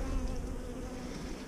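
A dense hum of honey bees and drones crawling over a hive frame, steady and close, filling the moment without any voices.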